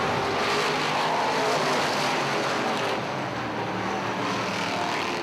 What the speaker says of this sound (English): Here comes Nick Haywood down the inside of Derek McGrew in the B2.